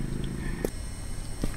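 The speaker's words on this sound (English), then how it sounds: "Oh, the cat's gone." A cat purrs in a steady low rumble inside a Japanese horror video game, quiet under a hissy ambient bed, with two brief soft knocks breaking through.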